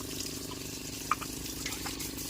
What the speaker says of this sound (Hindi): देखो हमारी जीजी बर्तन साफ कर रही है इधर को।